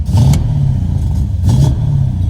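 An LS V8-swapped Lexus IS300 idles loudly with a deep, lumpy rumble, blipped up twice in short throttle revs, heard close with no talk.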